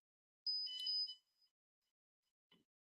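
The buzzer of a temperature-controlled alarm built from a PiHut maker kit gives one shrill, high electronic beep lasting under a second. A faint click follows in otherwise quiet surroundings.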